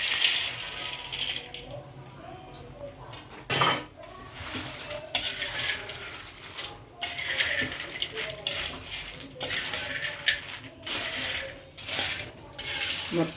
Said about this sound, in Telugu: మొత్తం ఉప్పు కారం మిర్చి పట్టేదాకా తిప్పుతూ ఉండండి.